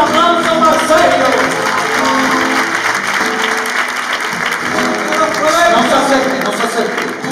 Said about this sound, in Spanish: ¡Fuerte el aplauso para Sergio!